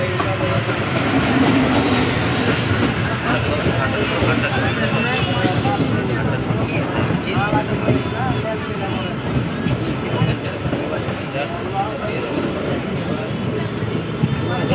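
A local passenger train runs along the rails in Malda, a loud continuous rumble of wheels with rhythmic clatter over the track joints, heard from inside the carriage while people talk nearby.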